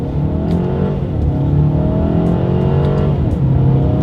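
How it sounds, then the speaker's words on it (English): A 2020 Mercedes-Benz A220 pulling hard in first gear in manual paddle-shift mode, the engine note climbing steadily in pitch, dipping briefly at a shift and rising again, loud and close from inside the car. "let's test out the paddle shifters here. All right, we are in manual shift mode in first gear,"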